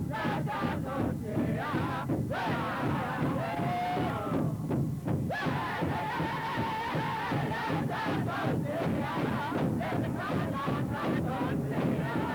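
A drum group of the Okanagan Nation drums and chants at a 1987 cultural gathering in BC Place, with loud group voices over steady drum beats and crowd noise filling a large arena.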